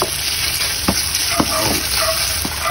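Mushrooms and cornstarch-marinated chicken frying in a claypot for Cantonese claypot rice, a loud continuous sizzle with a few sharp stirring clicks and scrapes close by.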